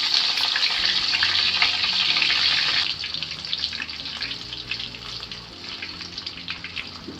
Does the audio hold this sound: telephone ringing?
no